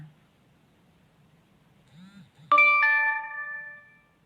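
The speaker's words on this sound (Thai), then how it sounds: "ดูเสียงติ้งติ้ง เสียงลูกค้าไลน์มาสั่งไหม" A bright two-tone LINE message notification chime rings out clearly after a faint murmur, its ringing tones lingering and slowly fading.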